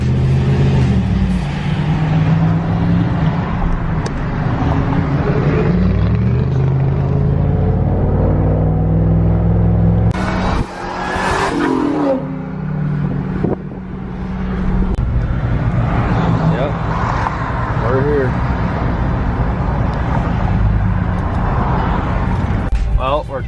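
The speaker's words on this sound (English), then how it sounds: "Someone just did a burnout." A car does a burnout amid the crowds and traffic of the Woodward Dream Cruise, with loud engine revving and rumbling close by and people talking over it.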